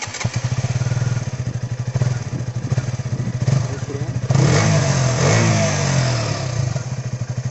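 A KTM RC 200 BS6 motorcycle exhaust pulses at a rapid, steady idle close by, then is blipped into a louder rev around the middle before dropping back to the choppy idle beat.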